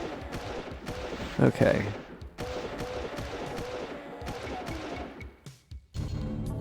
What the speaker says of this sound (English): looks like regular old shotgun